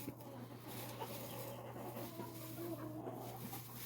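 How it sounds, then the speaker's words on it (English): Silkie chickens and old roosters cluck steadily in a backyard coop in winter, a close, continuous flock chatter layered over a constant low hum. "They're in here with some of my oldest roosters."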